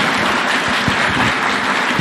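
An audience at a State House launch of Kenya's fourth medium-term plan applauds after a presidential speech, a steady, full wash of clapping filling the room.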